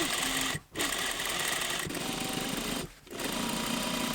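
Sewing machine stitching a hem on a dress shell and lining, a steady fast mechanical whir broken by two brief pauses, close and alone.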